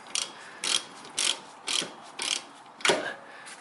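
A ratchet loosens a rear brake caliper bolt on a 2002–2012 Toyota Corolla, making six quick, close clicking bursts at an even pace with no voices.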